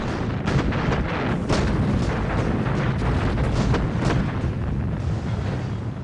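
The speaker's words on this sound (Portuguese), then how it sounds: "os soviéticos atacaram a maior concentração de artilharia da história" Artillery barrage from a massive Soviet bombardment of a city, a dense continuous roar of overlapping booms and blasts with repeated sharp bursts standing out, loud and sustained with no voices.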